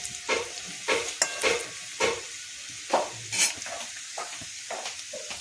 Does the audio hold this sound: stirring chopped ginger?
yes